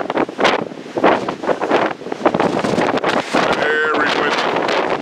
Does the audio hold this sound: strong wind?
yes